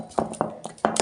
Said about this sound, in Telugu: కొంచెం పప్పు గుత్తితో దీన్ని ఇలా స్మాష్ చేసుకొని